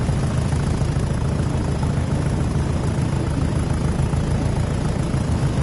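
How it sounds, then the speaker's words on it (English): A model chopper's engine throbs at a steady idle, a dense, continuous low rumble with a constant drone that stays loud and unchanging throughout. "Nothing beats a good throbbing chopper."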